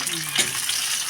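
Onion and garlic sizzle steadily in a hot pan, a close, bright frying hiss with a brief stir in the middle.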